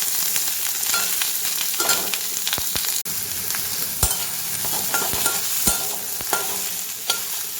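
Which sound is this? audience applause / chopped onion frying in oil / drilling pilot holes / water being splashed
chopped onion frying in oil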